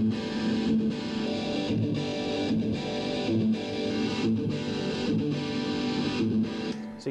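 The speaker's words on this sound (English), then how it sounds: "So you can hear the expander working there." Distorted electric guitar chords played through a 1993 Crate amplifier's expander effect, strummed in a steady rhythm with brief gaps where the sound cuts down sharply between strums.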